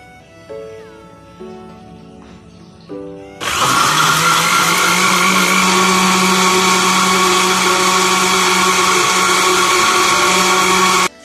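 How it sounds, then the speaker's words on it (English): A blender whirs loudly and steadily for about eight seconds, mixing a chocolate milkshake of milk, biscuits and cocoa powder, after a few quieter clinks and bumps while the ingredients go in. "We're going to get a blender and you have to put all the ingredients inside."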